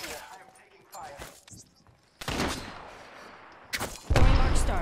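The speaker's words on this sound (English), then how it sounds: "I'm taking fire." Gunfire in the Apex Legends battle royale game, with bursts of rapid shots hitting hard in the second half, loudest near the end, mixed with other game noise.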